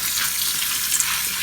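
Lima beans being rinsed in a strainer under running water from a kitchen tap, a steady close hiss of splashing flow with no pauses.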